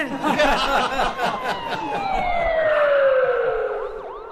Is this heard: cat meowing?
no